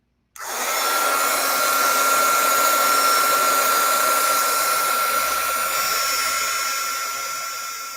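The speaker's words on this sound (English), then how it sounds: "I'm going to turn on my heat tool" An electric heat tool for melting embossing powder switches on and blows a steady, loud whirring hum close by. It keeps an even tone for several seconds and fades only slightly, with no voices.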